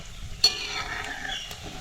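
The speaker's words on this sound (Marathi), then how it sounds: "पूर्ण गॅस कमी करून आपल्याला ही शंकरपाळी तळून घ्यायची आहे" Shankarpali dough pieces deep frying in oil over low gas, a steady soft bubbling sizzle with a brief clink of a spoon turning them near the start and another light knock later.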